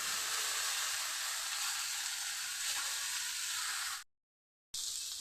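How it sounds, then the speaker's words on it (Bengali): Pieces of gathi kochu taro hiss and sizzle steadily in hot oil, a bright continuous frying noise that cuts out briefly near the end and then returns. "অল্প একটু ভেজে নিলাম।"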